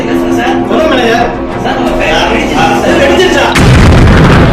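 A loud, sudden factory explosion breaks in over a dense rumbling background, followed by a sustained roar of noise.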